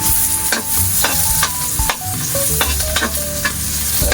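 Chili peppers sautéing in a hot pan, a steady loud sizzle of frying broken by repeated scraping and stirring strokes, with no voices.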